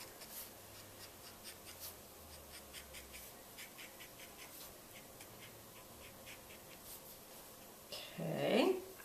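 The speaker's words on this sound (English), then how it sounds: "I'm going to start with the indigo marker, and I'm going to color on the outside of this stamp." Indigo marker tip scratching and rubbing across a rubber stamp's outer edge, soft continuous faint strokes in a quiet room, ending with a louder brief rustle.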